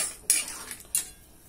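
Gentle stirring of catfish eggs masala in a pan, with two brief metallic scrapes of a utensil against the pan and soft clinks between them, close and fairly quiet, no talk.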